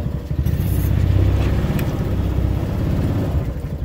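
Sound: boat motor running on a river at flood stage

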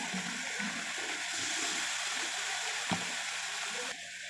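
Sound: boiled radish pieces frying in oil

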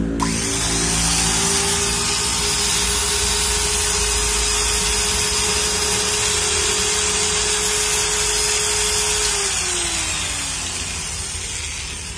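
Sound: Makita power tool running

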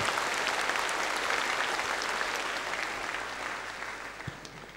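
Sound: applause at a bishop's ordination

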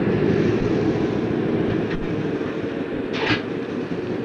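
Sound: train brakes released, train backing slowly on rails

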